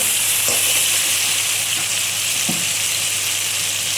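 Ground cumin paste fries loudly in a hot pan for a cauliflower and katla fish curry, a steady close sizzle broken by a couple of soft stirring knocks.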